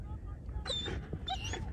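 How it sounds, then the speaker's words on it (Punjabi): A hunting dog on a wild boar hunt near the Jhelum river gives two short, high whimpering yips in the distance over a low rumbling outdoor background. "ਕੁੱਤਾ ਬੋਲਣ ਲੱਗੇ ਆ ਵੀ"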